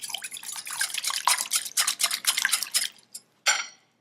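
Oil, milk, freshly brewed coffee and vanilla are whisked into chocolate cake batter in a bowl, a close, rapid rhythmic run of wet clinking and scraping strokes that pauses, then gives one last burst.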